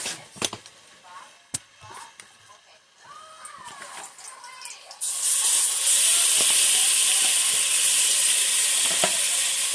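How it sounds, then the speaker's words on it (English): Beef cubes coated in cornstarch sear in a pan for beef stew, a quiet crackle at first that swells into a loud, steady sizzle for the second half. "put that cornstarch on my beef cubes and add them to the pan here"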